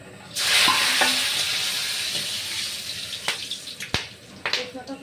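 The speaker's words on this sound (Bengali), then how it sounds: "তেল গরম হয়ে গেছে এবার দিয়ে দিচ্ছি গোটা গরম মশলা শুকনো লঙ্কা তেজপাতা" A sudden loud sizzle as whole garam masala, dried red chillies and bay leaves hit hot oil, crackling strongly then settling into a softer fry with occasional sharp clinks of a utensil.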